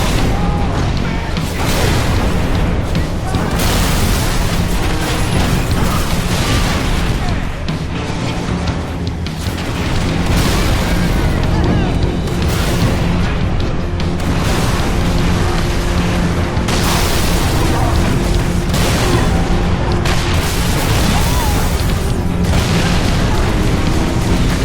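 Rocket launcher blasts and repeated booming explosions fill a Halo 3 ODST firefight, with dense, loud gunfire and bursts crowding one another continuously and voices shouting among the blasts.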